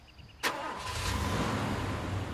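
A car engine in the video game Far Cry 2 cranks and catches with a sudden burst, then settles into a steady, loud idling rumble that holds to the end.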